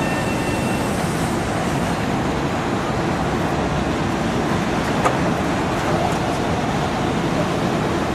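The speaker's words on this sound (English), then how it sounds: "The train is coming." A steady, loud rumble of a train fills the space, constant and droning, with no voices.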